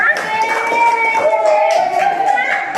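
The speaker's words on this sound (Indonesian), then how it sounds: "Tepuk tangan untuk semuanya" A primary school class claps hands together in a brisk, lively burst, with children's voices calling out loudly over the clapping.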